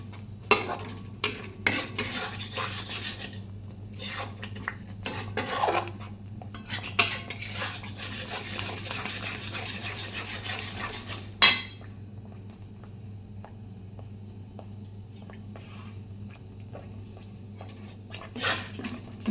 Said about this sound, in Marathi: दोन ते तीन मिनटं हे छान असं पुन्हा एकदा मीठ टाकल्यानंतर परतून घ्यायचं